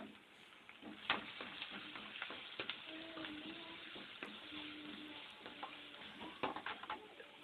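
Onions sautéing in a pan, low steady sizzle with scattered scraping and stirring clicks of a spoon against the pan, fairly quiet and close.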